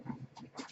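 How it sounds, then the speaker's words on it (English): A dog plays with a new dragon toy, giving short, close whimpering and snorting sounds in quick bursts with no talking. "that's my dog playing with her new dragon toy that we all love so"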